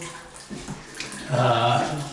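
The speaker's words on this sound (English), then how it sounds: "you can certainly hear it, and it is draining nicely" Water drains from a bathtub in a clean bathroom, a steady gurgling rush that swells louder in the second half after a few quieter splashes and knocks.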